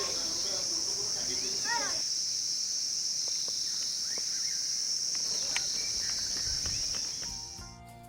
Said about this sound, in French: Chant des cigales.